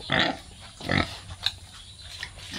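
Native pig grunting at close range, several short rough grunts in an uneven rhythm, with no talking.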